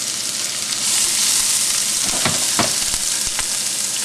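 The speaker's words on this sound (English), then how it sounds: "Get that nice sizzle." Shallots sizzle steadily in hot grapeseed oil in a pan, a loud, even frying hiss with a few stirring scrapes, and nobody speaks.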